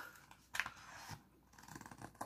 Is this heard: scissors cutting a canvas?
yes